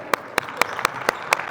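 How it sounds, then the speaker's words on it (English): Seven sharp hand claps at an irregular, fairly quick pace, close and distinct against a low background murmur at a coaching clinic. "Clap your hands!"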